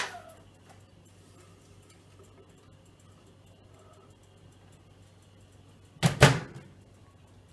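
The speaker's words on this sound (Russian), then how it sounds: "ставим микроволновку. Примерно я на 2 минуты ставлю" A microwave oven heating milk gives off a faint, steady low hum in a quiet kitchen, broken near the end by a brief loud clatter.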